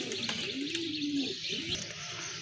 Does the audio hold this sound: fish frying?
no